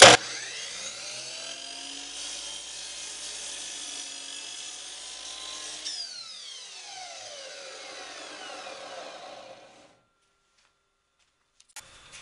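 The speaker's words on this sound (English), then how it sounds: "Now I'm going to be cutting my two fence sections in half on my miter saw." A miter saw cuts through fence sections, its motor whining loud and close with a continuous buzzing rasp for about ten seconds, the pitch shifting midway as the blade works through the wood, then spinning down to silence.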